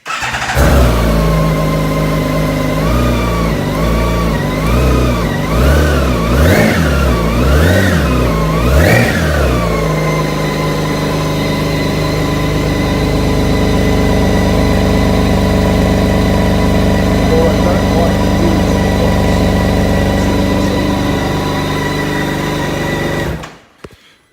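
A BMW K1600 GT motorcycle engine close by revs up and down several times, then settles into a steady, throbbing idle that runs on until it cuts off abruptly.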